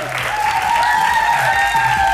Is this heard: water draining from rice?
no